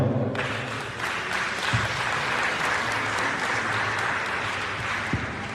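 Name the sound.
audience applause for Archie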